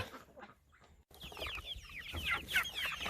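Cornish Cross meat chickens cluck and chatter nearby in short, overlapping calls, starting quietly and growing busier and louder toward the end.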